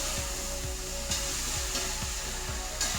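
Kerala-style beef roast sautéing in a pan, a steady close hiss and sizzle with a constant low hum and faint periodic scraping.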